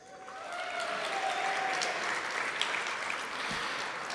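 A large audience applauds steadily at an athletics year-in-review event, a dense sustained roar of clapping that holds at an even level for several seconds with no voices on top.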